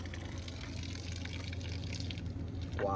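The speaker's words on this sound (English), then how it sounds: "So we just put some water on this." Water splashes and pours steadily onto an object, a continuous wet rushing that swells a little louder near the end.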